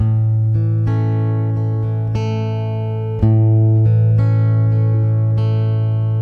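An acoustic guitar plays a slow finger-picked pattern, individual plucked notes ringing in a steady rhythm over a sustained bass string, clear and close with no talking.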